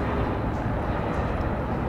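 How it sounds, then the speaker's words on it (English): Airplane passing overhead near a waterside spot with a train and freeways nearby, a low continuous engine rumble holding steady throughout. "we have a train going by, we've got airplanes going by"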